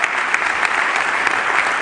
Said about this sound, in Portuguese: batam uma salva de palmas para recebermos o Pedro Vasconcelos Almeida, a Marina Gonçalves, o Tiago Rego e o Fábio Zacarias